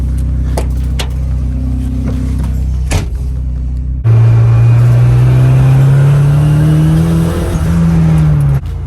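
A turbocharged Mazda Miata on new tires idles steadily, then its engine swells louder and rises in pitch as it pulls out of a garage, the boosted note staying close and prominent until it eases off at the end.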